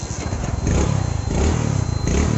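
A Hero Splendor motorcycle engine idles close by after a timing chain replacement, a loud, steady rapid thumping putter with a slight rise in revs, no talking.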